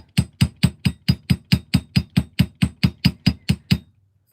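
Metal wire loops being hammered in jewelry-making, about fifteen sharp, evenly spaced strikes in a steady rhythm, close and loud with no talk, ending abruptly.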